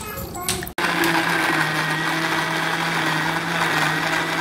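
A kitchen mixer blending winter melon with water starts abruptly after a brief pause and runs at a loud, steady whine close by until the end.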